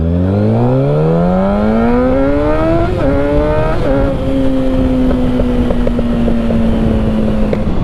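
A Kawasaki ZX6R motorcycle fitted with a Graves slip-on exhaust revs up, engine pitch climbing steadily through several seconds before settling into a high, steady whine; loud and close, with no voices.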